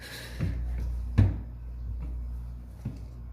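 Dusty drawers being pulled open in a small one-room apartment, a few short wooden knocks and slides spaced over a few seconds, fairly close, with a steady low hum underneath and no speech.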